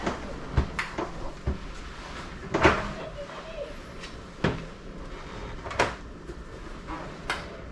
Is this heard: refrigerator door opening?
yes